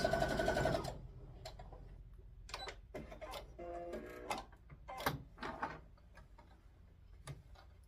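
A sewing machine stitches a quilted Christmas table runner: a brief, dense run of stitching at the start, then scattered light mechanical clicks and taps close by, with no talk.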